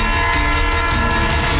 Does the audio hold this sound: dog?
no